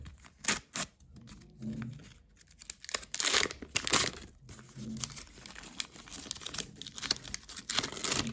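A comic book shipping package is torn and crinkled open up close in irregular bursts of ripping paper and plastic rustle, with brief pauses between pulls.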